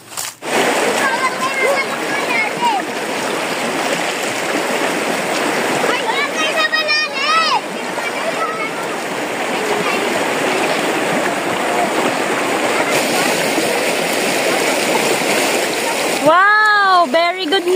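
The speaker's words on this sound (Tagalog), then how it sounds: "Tapos na po ang mga batang mag-swimming sa ilog." Children splash while swimming in a river, a continuous rush of churning water with bursts of playful splashing, and young voices and shouts heard throughout.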